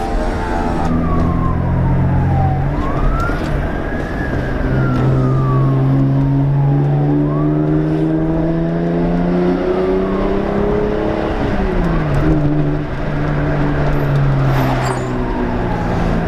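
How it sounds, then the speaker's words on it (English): Loud, raspy exhaust of a 1993 Lexus SC300 with a muffler delete rumbling continuously while driving, revving and dropping in pitch, with a faint siren wailing in the background. "So yeah, that's what the muffler delete sounds like."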